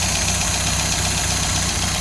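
A rebuilt MGA speedster engine idles at about 950 RPM after its first start, a steady even low throb with a regular mechanical rhythm, loud and close with no talk over it.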